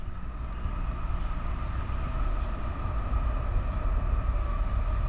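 A CSX freight train, I032, passes on the Fourth of July with a steady, loud rolling rumble of wheels and cars that holds unbroken for the whole stretch, with no voices.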